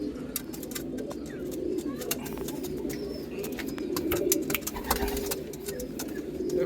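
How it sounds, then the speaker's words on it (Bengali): Long-distance racer pigeons, a newly housed pair, cooing in soft low repeated phrases close by, with scattered chirps and light rustling around them. "এগুলো একটু ডিস্টেন্সেরই পায়রা আছে, লোকাল পায়রা না"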